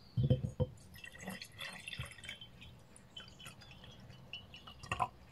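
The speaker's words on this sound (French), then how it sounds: "On va mettre de l'eau." Water is poured into a cup up to about half full, making a faint close trickle with scattered drips and splashes that come and go.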